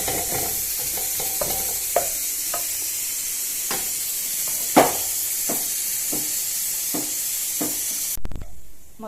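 Seasoning tempered for mashed greens sizzles in a hot pan with a bright, steady hiss, punctuated by sharp spoon taps against the metal at uneven intervals, before the sizzle cuts off abruptly near the end; no one speaks.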